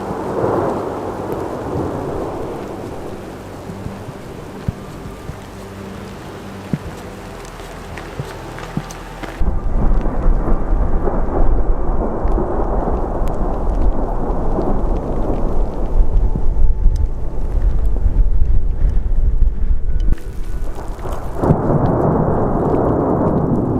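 A thunderstorm rolls in near Island Lake in the Colorado mountains above tree line: heavy rain hisses steadily while deep, rumbling thunder swells and grows louder through the middle, close and powerful, with no voices.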